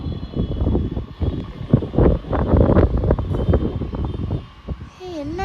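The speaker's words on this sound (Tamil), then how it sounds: "என்ன காற்று செம்மையாக அடிக்குது." Strong wind gusting during a Pongal home celebration, loud rumbling buffeting close to the microphone that surges and fades, with a voice speaking briefly near the end.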